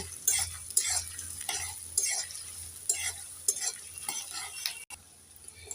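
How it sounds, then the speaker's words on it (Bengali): Chopped onions stirred and lightly fried in a pan with cinnamon and cardamom, a soft steady sizzle broken by repeated scraping and clinking of a spoon against the pan, close and fairly quiet. "এবার নেড়ে চেড়ে পেঁয়াজটাকে হালকা আমি ভেজে নেব"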